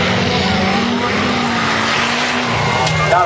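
Ford and Chevrolet cars race at a drag strip, with loud, continuous engine roar, a rising engine pitch, and tire noise, under a voice talking over the cars.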